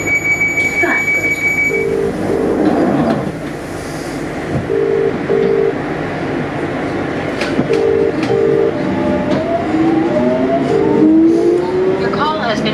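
A London Underground Jubilee line train runs with a steady rumble and rattle. Repeated beeping chimes and rising whines from the train sound over the noise, and voices and an automated announcement can be heard throughout.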